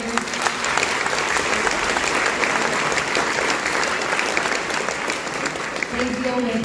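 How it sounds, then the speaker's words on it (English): Audience at a school district band concert applauds the administrators: loud, sustained, dense clapping from a large crowd that continues evenly, with a voice faintly emerging near the end. "if we can give a round of applause for all of our lovely administrators"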